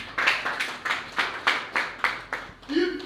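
A church congregation at a spiritual mission service in Benin claps in acclamation, a steady rhythmic series of about nine sharp claps, close and loud, with voices joining near the end.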